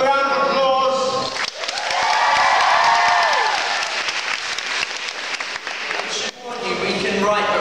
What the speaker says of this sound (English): Come a round of applause